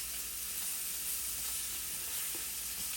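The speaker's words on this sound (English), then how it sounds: "So the bacon is cooking." Bacon frying in a pan gives off a steady, dense sizzle and hiss throughout, close and continuous, with no voices.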